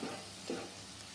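A vegetarian soybean curry fries in a pan with a faint, steady sizzle, broken by two soft, low scrapes of stirring.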